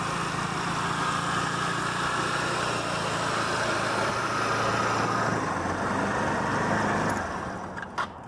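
A small vehicle's engine runs loud and close with a steady buzzing drone that holds for several seconds before cutting off near the end. No one speaks.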